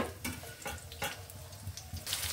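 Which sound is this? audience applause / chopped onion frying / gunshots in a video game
chopped onion frying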